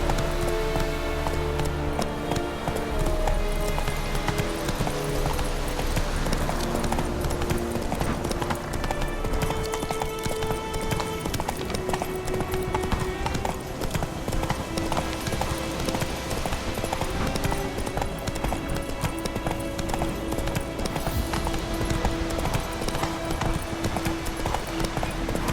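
Game horse from The Witcher 3 galloping with steady clip-clop hoofbeats, loud and continuous under dense orchestral music and ambient game sound.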